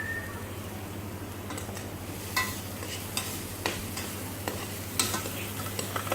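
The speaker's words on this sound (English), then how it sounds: "I'm continue to sweat out those onions" Chopped onions sweat in oil in a pan for beef stroganoff, giving a soft, steady sizzle broken by occasional scrapes and clacks of stirring, over a low electrical hum.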